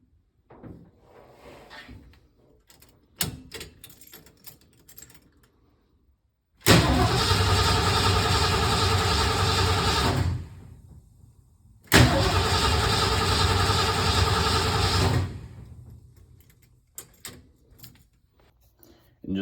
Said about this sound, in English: And just like that, we've got an engine that cranks from the key.